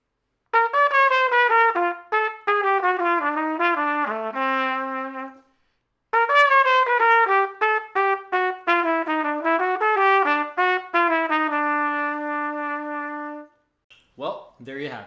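Fast jazz improvisation with chromatic bebop phrases over a jazz standard on a single sustained-tone instrument, running in two long passages separated by a pause, ending on held notes.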